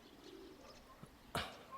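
A pigeon landing: a sudden, brief burst of flapping wings close by, set against a quiet outdoor background with faint bird calls.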